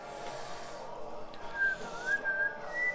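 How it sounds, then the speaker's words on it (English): A person whistles a few short, thin wavering notes, fairly faint under a steady background of game sound. "I can just now whistle again."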